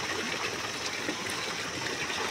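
Cold water flows steadily in Barpak, Gorkha, a close, continuous rushing gush with no breaks.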